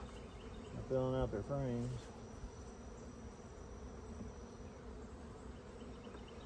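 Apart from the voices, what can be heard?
honey bees buzzing around mating nucs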